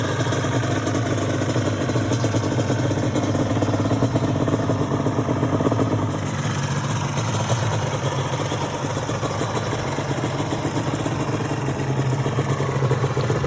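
A Yamaha Banshee two-stroke ATV, revived after sitting fourteen years and fitted with Toomey exhausts, idles continuously with a loud, close, raspy buzzing drone and a slight unsteady burble.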